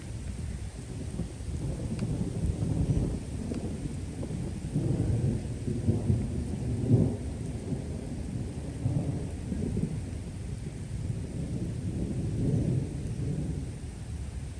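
A thunderstorm with rolling thunder and steady rain: low rumbles swell and fade several times beneath a constant wash of falling rain, loud and close, with no voices.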